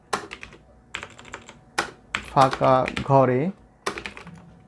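Keys on a computer keyboard are tapped in short, clicky bursts with pauses between them, and a person speaks briefly midway over the typing.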